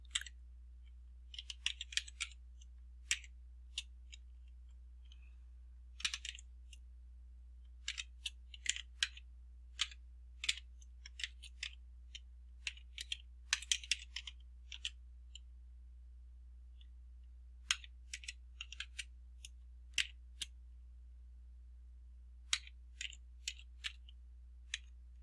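Computer keyboard typing, entering an Excel formula, in irregular bursts of crisp key clicks with short pauses, close and quiet with no speech.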